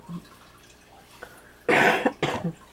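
After a quiet stretch, two loud, raspy coughs from a person who is ill ring out close by, the second following shortly after the first.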